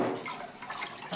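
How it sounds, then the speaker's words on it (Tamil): Foxtail millet grain, mixed with green gram, is rinsed by hand in water, giving a close swishing and sloshing of liquid with small splashes across a short stretch, and no one talks over it. "நல்லா வெள்ளை தண்ணி வர வந்து கழுவணும்"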